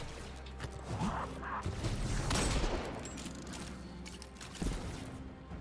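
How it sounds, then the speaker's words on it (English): A fusion grenade detonates in the Destiny 2 video game, bursting out as a loud crackling blast that swells and tails off, followed by scattered game-combat thumps. "I'm gonna stick it and it sticks to that person and detonates."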